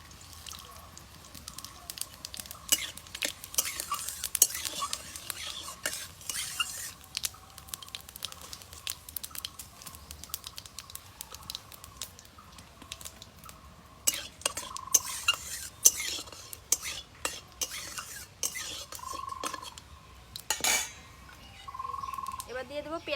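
Dry red chillies, whole garam masala and cumin frying in hot oil in a pan as a tempering, stirred with a utensil. Soft sizzle runs throughout, broken by frequent clinks and scrapes against the pan.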